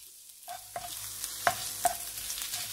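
Chopped ginger stir-fried in a pan for a moong dal masala curry, with a soft sizzle and a few sharp spatula scrapes and clinks, fairly quiet and close, with no talking.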